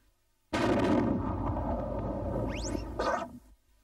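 A donut cannon firing in the LittleBigPlanet 3 game: a sudden loud, sustained mechanical boom lasting about three seconds, with rising whistling tones near the end before it cuts off, no talk.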